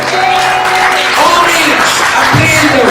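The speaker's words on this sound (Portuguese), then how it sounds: "Você pode aplaudir ao Senhor." A church congregation applauds the Lord, loud broad clapping mixed with crowd voices and shouts, sustained throughout with music tones underneath.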